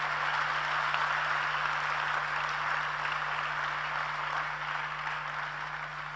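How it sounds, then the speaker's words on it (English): Steady, sustained applause from an audience welcoming the Honorable Minister at a youth dialogue event in Ghana, a dense, even wash of clapping holding for the full length, with a low constant hum underneath. "please give a hand clap to the Honorable Minister for making time to come here"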